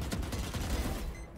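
A video game firefight plays out as a quick burst of rapid gunshots, dense and crackling, at moderate loudness with no talk.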